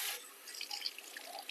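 Cold water running from a kitchen tap onto fingers, a short, faint trickle and splash with scattered drips, heard alone.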